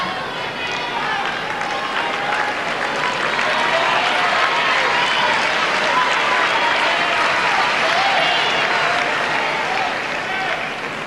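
Wimbledon tennis crowd at the 1992 Sabatini–Capriati match applauding, a dense, steady wash of clapping that holds loud and even for the whole stretch.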